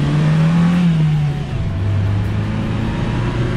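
A Maruti Gypsy 4x4 engine revved hard on a test ride, loud and close, the pitch holding high then dropping to a steady lower drone.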